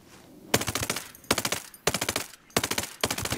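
Rapid automatic gunfire in the tactical shooter Ghost Recon Breakpoint, four sharp bursts of fast rattling shots separated by short pauses, loud and close with no talk over it.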